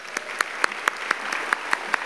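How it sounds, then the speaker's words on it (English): Scattered audience applause at a philanthropy awards gala, a steady patter of hands with several sharper individual claps standing out at a regular pace; fairly quiet and a little distant, no talking. "So let's give Michelle an applause."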